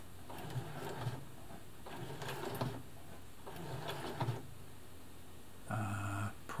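A Brother heavy-duty sewing machine stitches off the fabric onto the presser foot tool in several short runs of whirring, separated by brief pauses, with a louder final burst. Close but fairly quiet, and no one speaks.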